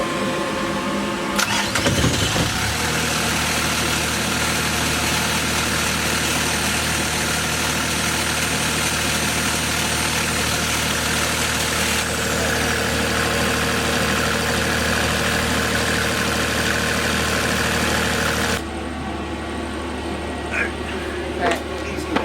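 A sailboat's generator engine cranks and catches, then runs at a loud steady drone for most of the stretch before cutting out abruptly, leaving quieter ambience behind.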